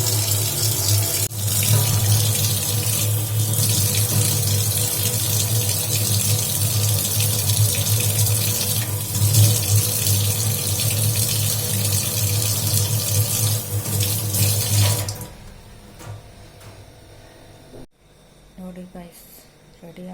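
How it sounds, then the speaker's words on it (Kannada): Running tap water gushes steadily into a sink for about fifteen seconds while hands are washed, then cuts off, leaving quieter handling sounds and small splashes. "ಟ್ಯಾಪ್ ವಾಟ್ರಲ್ಲೇ ತೊಳ್ಕೊಂಡ್ಬಿಡ್ತೀನಿ"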